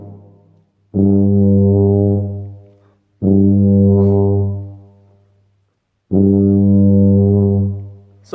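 A wind instrument holds long, low, steady notes, three sustained tones each several seconds long that fade out, separated by brief pauses, loud and close with nothing else heard.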